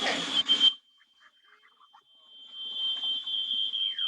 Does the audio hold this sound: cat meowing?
no